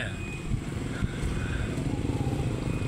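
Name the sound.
motorcycle engine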